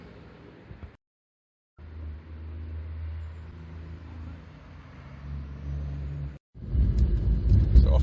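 A 1997 Renault Mégane Coupé 1.6e Fidji pulls away, its engine a low steady hum from inside the cabin, briefly cut out twice, then a louder rumbling surge near the end.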